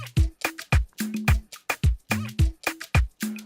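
Unequalized kick drum in an Afro gospel highlife instrumental mix, thumping steadily about three times a second alongside bright percussion hits and a bass line, loud and without voices.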